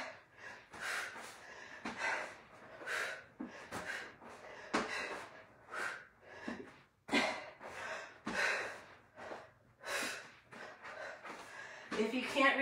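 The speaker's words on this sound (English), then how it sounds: "Exhale." Heavy rhythmic exhales and panting breaths during a full-body core workout, repeated close to the microphone at a steady effortful pace over several seconds, with no clear speech.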